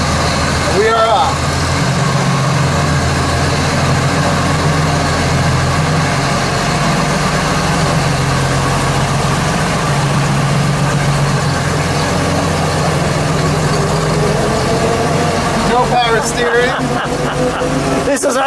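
A 1919 Pierce Arrow Model 51 Roadster pulling away in low gear, its engine a loud, steady, rumbling drone close by throughout, with wind noise and brief voices near the end.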